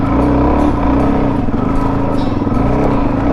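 A Suzuki DRZ400 dirt bike with 15/38 gearing climbs a rocky single-track trail, its four-stroke engine thumping loudly and continuously up close, with rhythmic pulsing and slight rises as the rider works the throttle.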